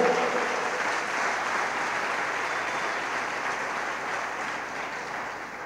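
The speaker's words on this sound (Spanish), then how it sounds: "Denle un aplauso fuerte al Señor" A congregation at a church conference applauds steadily throughout, a dense, even wash of clapping that holds at a constant level and tapers slightly toward the end.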